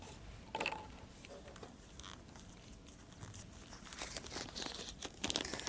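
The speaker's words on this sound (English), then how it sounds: "We use the oil paper to wrap it up" Oil paper crinkles and rustles as it is wrapped around a 120 series injector control valve: a steady close-up crackle with sharper, louder bursts toward the end.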